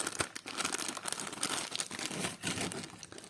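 Continuous close crinkling of a plastic packet holding vintage jewellery, rustling and crackling with irregular sharp bursts, no voices.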